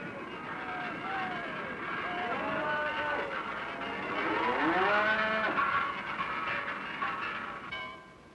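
Several herds of cattle lowing repeatedly during an Alpine procession toward the mountain pastures, overlapping moos rising and falling over a steady outdoor hum, fairly loud throughout before fading at the end.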